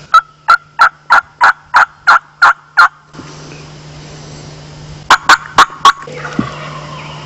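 Wild turkey gobbler in spring near a small green field in New England: a rapid series of loud, regular calls, a pause with background hiss, then four more sharp calls close by.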